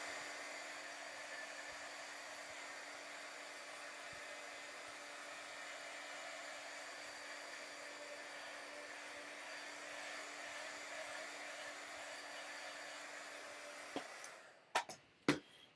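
A heat tool blows steadily on blue paint over paper, giving a continuous, even whir that runs close and unbroken before cutting off near the end, followed by a couple of soft clunks.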